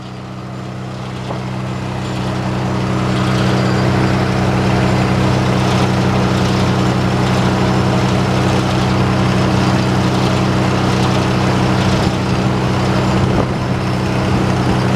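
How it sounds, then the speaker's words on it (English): An old tractor engine runs steadily at a sawmill show, a loud, continuous low rumble with a strong throbbing drone that builds in the first few seconds and then holds even to the end, with no talk. "That tractor is a great running tractor, pulls good, got a lot of snot to it"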